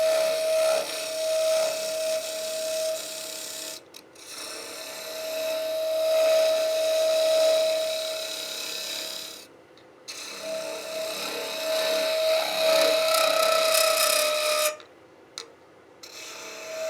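Harsh rasping and a high squealing chatter as a turning tool cuts against spinning wood on a lathe while turning a box, broken by brief pauses, loud and close.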